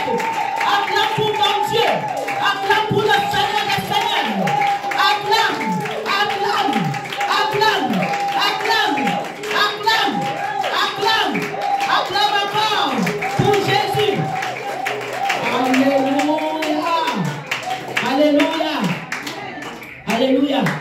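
A church congregation claps in steady rhythm at a lively French worship service while a voice chants and sings loudly over the clapping throughout.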